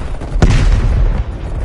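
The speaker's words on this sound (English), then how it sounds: "incoming artillery" A single loud artillery explosion hits in Call of Duty Cold War's hardcore mode, a sharp blast with a rolling low-end rumble that decays over the following second, with no talking.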